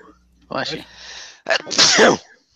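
A sharp sneeze up close, followed right after by a short spoken reply.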